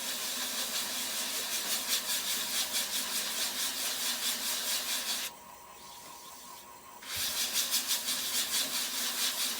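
Sandpaper rubs a spinning mimosa wood bowl on a lathe in a steady, even hiss, dropping away briefly midway before the sanding resumes at full loudness.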